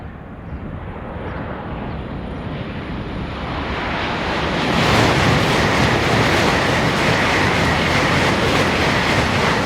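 A Class E320 electric passenger train runs along the fast line toward London St Pancras, giving a steady, loud rushing roar with rail noise that builds as it nears and stays up as it passes close by.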